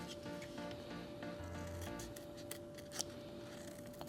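Soft, continuous rustling and snipping of scissors working through paper, close by, with a steady faint hum underneath and one brief sharper click.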